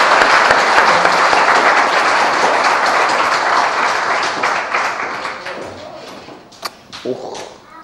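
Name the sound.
applause welcoming a performer to the stage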